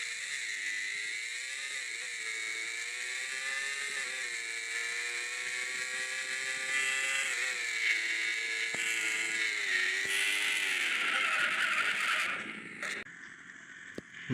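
Motorbike engine from the racing game Xtream Motorbikes, a loud continuous harmonic whine that rises and falls with throttle shifts before cutting out abruptly near the end.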